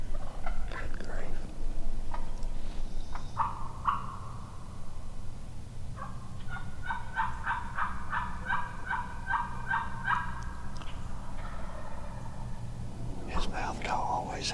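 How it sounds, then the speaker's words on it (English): A wild turkey hen yelps in a series of clear, evenly spaced notes from the woods at a moderate distance, among other turkey calls, while hunters whisper quietly nearby. "Did you hear that hen yelp down there with him?"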